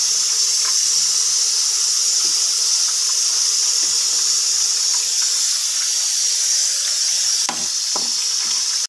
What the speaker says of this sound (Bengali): এবার আমি বাদামগুলো ভেজে নেবো।